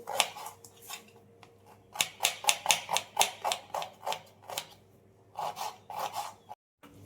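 Knife chopping an onion on a cutting board in a home kitchen, a run of quick rhythmic close taps in bursts with brief pauses, moderately quiet with no talk.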